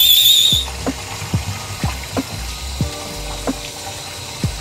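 Boiled tsukemen noodles being rinsed with water in the same pot they cooked in, a steady watery wash with a series of soft, regular sloshing knocks as the noodles are stirred and rubbed.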